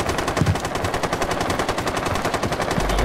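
A light machine gun in the tactical shooter Rainbow Six Siege fires in one continuous, rapid burst, each round distinct in a steady rhythm, loud and close throughout.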